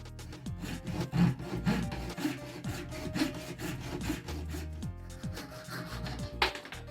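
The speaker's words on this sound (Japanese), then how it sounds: "アクリル専用のノコギリだったので、うまく切れたようです。" A saw made for acrylic cuts through a 10 mm square acrylic rod in steady, rapid back-and-forth strokes, close and fairly loud, with no voices.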